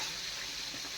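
Fish sizzling in hot oil over a wood-fired clay stove, a steady close hiss of frying with faint stirring, no voices.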